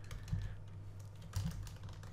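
Computer keyboard keys being typed in quick irregular bursts, close and fairly quiet, with a low steady hum underneath and no talking.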